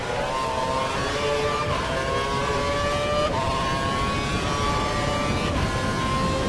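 Racing cars in F1 2012 on the Montreal circuit drone steadily past, with several engine whines rising in pitch over continuous loud track noise.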